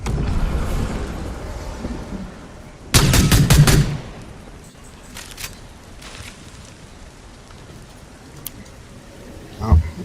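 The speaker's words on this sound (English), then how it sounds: "looks like he's taking fire" Gunfire in a Fortnite esports league match: a short, dense burst of rapid shots lasting about a second, with quieter shots scattered around it, under steady commentary and background game noise.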